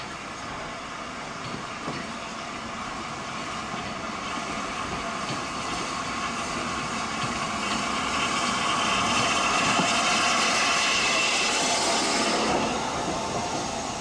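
LMS Class 8F steam locomotive 48773 running on a preserved railway, a steady rumbling roll of wheels and carriages that swells gradually louder midway and then eases, with no voices.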